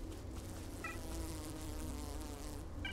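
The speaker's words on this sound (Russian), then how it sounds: "Блин, я думал в реале муха, а это в игре." A housefly buzzes steadily and close in the video game STALCRAFT, a continuous droning hum that holds for the whole three seconds over low game ambience, with no talking.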